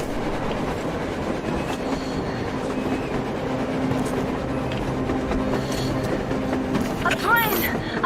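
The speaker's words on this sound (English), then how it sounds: "A train! A damn train on the surface!" Train rolling along on the surface in the video game Metro Exodus, a steady low rumble with rail clatter running throughout at even loudness, with a brief squeal or tonal sweep near the end.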